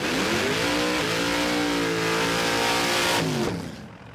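A 427 cubic inch LS V8 in a Holden VF Commodore, a loud, harsh rev held high and rising slightly, then dropping off quickly at the end, with a noisy crowd and event setting behind it.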